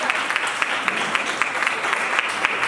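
An audience at an event claps for the ladies, a brisk, continuous burst of many hands with sharp individual claps standing out, fairly close and steady.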